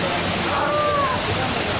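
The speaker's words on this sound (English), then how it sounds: "apparently there's 5 waterfalls here" A waterfall in Cebu, Philippines pours in a dense, constant rushing hiss close by, steady and loud with no pauses.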